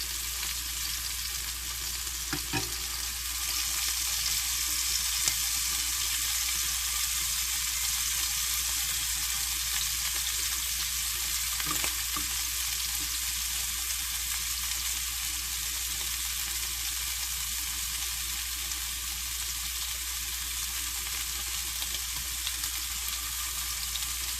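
Scallops searing in a pan over medium heat, a steady, dense sizzle that holds evenly throughout with a couple of faint knocks and no voices.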